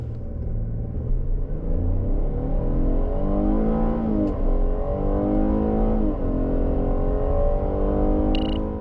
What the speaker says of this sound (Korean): 이번에는 쉐보레 트래버스 가속 성능을 볼까요?